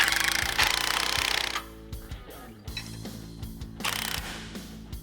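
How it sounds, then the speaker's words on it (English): Castle nuts on the steering linkage of an old square body tow truck are tightened with a ratcheting tool, giving loud clattering bursts followed by short clicks and knocks, close and alone with no talk. "With everything loosely attached, we can start tightening all the castle nuts."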